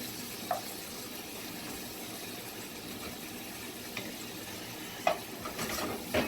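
Seafood medley with pepper and paprika being stirred in a pan, a soft steady sizzle with a few sharp utensil scrapes and clicks, fairly quiet throughout.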